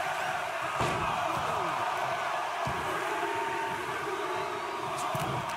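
Wrestling video game crowd noise with Brock Lesnar in the ring, a steady roar from a large arena audience running throughout, with sharp slam impacts and rising whistle-like tones on top.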